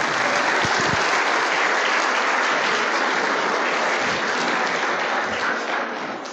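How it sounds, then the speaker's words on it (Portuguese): An audience at a church gathering gives a broad, sustained round of applause, dense and even from start to finish, with a few low knocks early on and fading only slightly at the close. "Aplauda os irmãos aqui."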